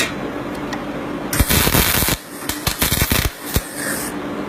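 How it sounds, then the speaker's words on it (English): Welding on a single gate panel in a metal workshop: loud, harsh crackling bursts that start abruptly, pause, and return in short intermittent spurts. "Just fill that up with a bit of weld"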